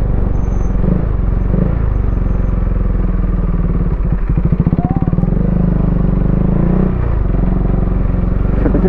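Motorcycle engine running steadily up close during a first ride on a dirt-bike outing, a continuous low rumble with a brief swell in revs midway and no talk over it.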